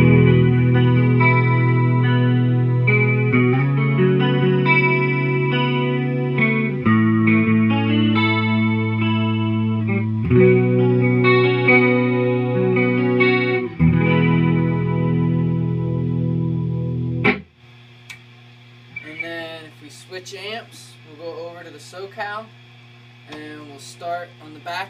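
Electric guitar on its neck pickup alone, played clean and sustained, warm rounded tone with ringing chords and short melodic lines, loud and close, ending as a voice begins speaking.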